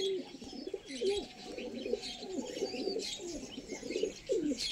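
Madras pigeons kept at home coo in a steady run of repeated, rolling low calls, close and fairly soft, with faint chirps in the background and no talking.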